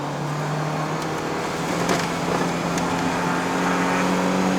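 A Toyota Corolla AE92 with a 4A-GE 16V Red Top engine pulls steadily on a wet road in the rain, a sustained droning engine note with tyre hiss, heard from inside the car.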